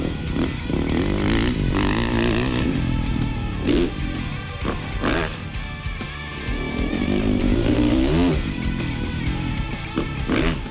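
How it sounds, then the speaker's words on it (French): A Honda CRF230 dirt bike engine revs and drones nearby, rising and falling as the throttle opens, with some mechanical clatter. "Un Honda, c'est une moto qui est super facile à rouler."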